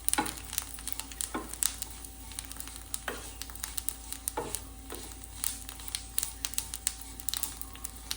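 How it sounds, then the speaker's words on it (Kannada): Roasted vermicelli fries briefly in ghee for vermicelli kheer, a soft, continuous sizzle close by, broken by regular scraping strokes as it is stirred. "ಜಸ್ಟ್ ತುಪ್ಪದಲ್ಲಿ ಒಂಚೂರು ಸ್ವಲ್ಪ ಫ್ರೈ ಮಾಡಿದ್ರೆ ಆಯಿತು"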